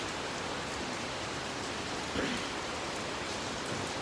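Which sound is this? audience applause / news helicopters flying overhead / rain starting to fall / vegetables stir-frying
rain starting to fall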